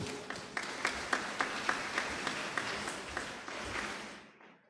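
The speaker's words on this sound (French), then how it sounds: "Nous vous demandons également d'applaudir le maître David, qui n'est pas présent parmi nous ce soir." A church congregation at Sunday Mass claps in a moderate, fairly rhythmic burst that continues for about four seconds, then stops abruptly into silence.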